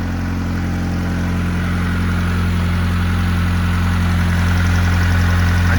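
A Camaro engine with a freshly changed timing belt idles steadily after start-up, a continuous close, even mid-to-low rumble with no voices over it.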